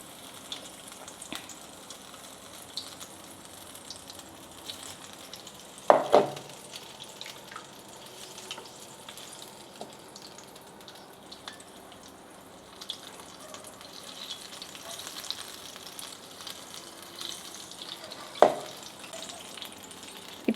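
Batter-coated chillies for mirchi bajji fry in oil with a soft, steady bubbling hiss, broken by two louder clunks of handling, one early and one near the end, with no voices.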